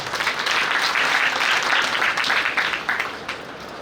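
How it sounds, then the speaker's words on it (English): A crowd at a college orientation program gives a big round of applause as a guest comes on stage, dense and continuous before gradually thinning and fading. "Everyone give them a huge round of applause."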